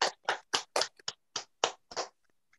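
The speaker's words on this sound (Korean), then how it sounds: "우리 박수 한번 주세요" About ten distinct, separate claps, close and crisp, spaced at a loose irregular rhythm, from a business evening meeting audience asked to applaud.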